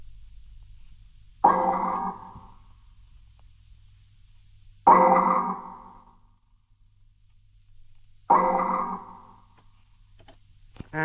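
Three separate tonal hits ring out several seconds apart, each one decaying slowly in a reverberant tail before fading into quiet.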